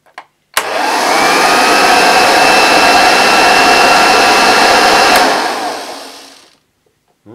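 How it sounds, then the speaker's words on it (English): A vintage Hoover Junior 1346A upright vacuum cleaner switches on with a click and runs steadily and loudly for about five seconds, its motor roar filling the room as the dust bag inflates, then winds down and fades out. "I got the familiar noise, the familiar sound of the dust bag inflating"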